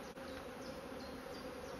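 A dense, continuous buzz from an angry honeybee swarm being moved into a full-size hive, loud and close, with many bees droning together and no speech.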